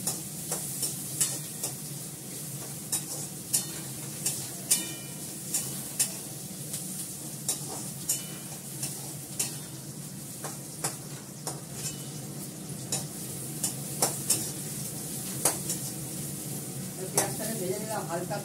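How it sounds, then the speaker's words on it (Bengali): Onion frying lightly in a pan as it is stirred: a steady soft sizzle with frequent scraping and clinking of a spoon against the pan, carrying on throughout. "পেঁয়াজটা একটু হালকা করে ভেজে নিই"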